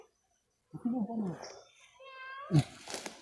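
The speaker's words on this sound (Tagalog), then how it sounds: "Pusa yan bay." A cat meows a couple of times, short, close, and fairly soft, with a quiet bird-like warble in between.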